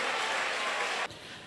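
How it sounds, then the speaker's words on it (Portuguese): A church congregation claps for Jesus in a dense burst of applause that stops abruptly, leaving a quieter room tone. "Pode dar aplausos para Jesus"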